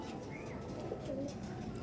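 A racing pigeon with eleven hours sixteen minutes of flying coos softly in a brief, faint, low murmur, close but quiet against a dull background.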